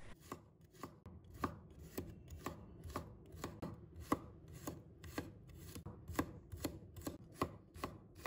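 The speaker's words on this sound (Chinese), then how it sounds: "准备一把蒜子，切成薄片" A knife slices garlic cloves thinly on a cutting board, striking in a quick, even rhythm of crisp taps, close and clear with no voices.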